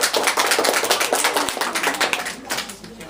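Audience applause at a Maslenitsa-week children's fair performance in Russia, a dense, steady patter of many hands clapping that runs for about three seconds and fades slightly toward the end.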